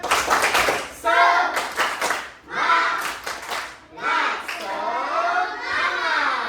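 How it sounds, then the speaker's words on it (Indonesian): Schoolchildren in a classroom perform a rhythmic spirit clap, with bursts of clapping alternating with loud chanted and shouted voices in a patterned call. "tepuk semangat"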